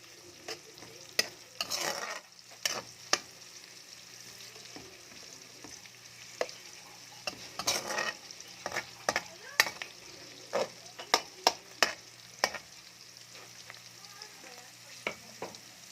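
Garlic sautés in a pan for a sayote and ground-meat dish, a soft steady sizzle broken by scattered spatula scrapes and clinks, with no talking.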